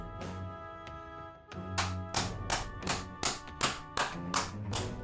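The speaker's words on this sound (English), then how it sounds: "Clap it up. Clap it up." Hands clap in a loose, roughly regular beat of sharp close claps over background game music, about eight or nine strikes in a few seconds.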